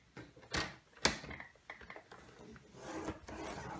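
Paper being scored on a scoring board to make a box for 4x4 notecards, with a couple of sharp taps followed by soft scraping and rubbing strokes, close and quiet with no talking.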